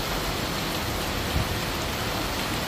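Heavy rain drumming steadily on an Arpenas Base Fresh Tent, a loud, dense, unbroken wash of sound with no voices.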